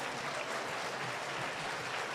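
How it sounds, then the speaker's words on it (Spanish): Sustained audience applause following a lecture at a hotel school event, a steady wash of many hands clapping with no voices rising above it. "Fuerte el aplauso para el doctor Ricardo Gous Araníbar."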